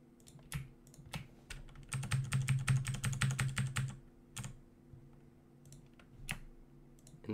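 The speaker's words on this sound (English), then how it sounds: "this is just me holding shift and selecting them, then using the arrow keys to nudge them" Computer keyboard keys clatter close and quiet while a shift key is held and arrow keys nudge letters in a logo design, with scattered single taps, a fast dense burst of typing in the middle, then sparse clicks.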